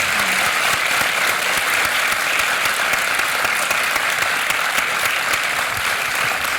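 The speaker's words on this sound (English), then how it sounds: "would you please join me in thanking Jody and Katrin" Sustained applause from an audience at the end of an evening talk about refugees, steady dense clapping held at a constant level throughout with no voices over it.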